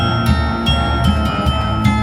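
Bells in a portable bell instrument, each struck individually through levers and pulleys at an outdoor holiday festival, ringing about six times in an irregular sequence over a loud, busy background.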